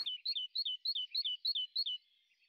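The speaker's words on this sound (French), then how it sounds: "j'ai entendu une mésange et au loin une pie" A great tit sings near a circular wash-house in the village of Saessolsheim: a clear, close two-note phrase repeated about eight times in quick rhythm before fading, with nothing else audible.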